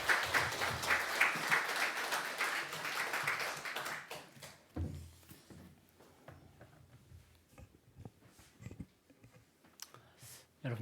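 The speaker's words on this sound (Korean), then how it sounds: "목사님 나오실 때 우리 큰 박수 한번 보내주시기 바랍니다." A church congregation applauds as the pastor comes forward at a Sunday worship service, dense clapping that lasts about four seconds and then fades into quiet room noise with scattered taps and shuffling.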